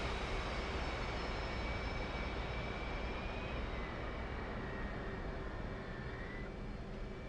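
Twin jet engines of an F/A-18C idling in a flight simulator game produce a faint, steady whine and hum with no changes in pitch, alone and without speech.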